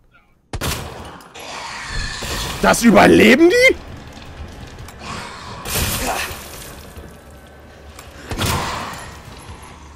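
Several sharp, loud shotgun blasts from Resident Evil 2 Remake, spaced apart over a few seconds, with someone talking excitedly between them.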